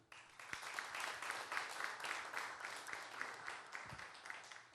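Audience at a civic post-COVID public discussion forum gives a round of encouraging applause, a fairly quiet, distant spread of clapping with a few sharper individual claps standing out.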